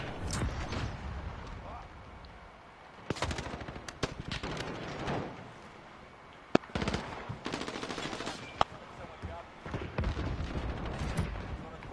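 Gunfire in Call of Duty Modern Warfare, with bursts of automatic fire and sharp single shots scattered among quieter gaps and a few loud booms, while someone talks over the game.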